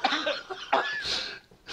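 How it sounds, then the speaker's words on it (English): A few harsh, raspy coughs in quick succession, close to the microphone, with a brief pause before another breathy burst. "God, this is so bad with the cough."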